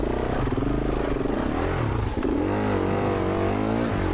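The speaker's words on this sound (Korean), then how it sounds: "이게 다 지금 헛바퀴 도는 소리입니다" An off-road motorcycle engine revs hard and steady during a forest off-road race, its pitch rising and falling as the rear wheel spins without grip, loud and close throughout.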